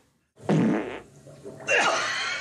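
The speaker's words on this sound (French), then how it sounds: "si on pète, autant que ce soit un pet de 27 secondes" A fart in two parts: a short, loud, low sputtering burst, then a longer, raspy, higher-pitched squeak that holds until the end, close and alone.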